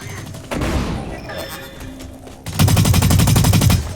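Rapid automatic gunfire in the shooter game Blacklight: Retribution, a short burst early followed by a louder, sustained stream of closely spaced shots near the end.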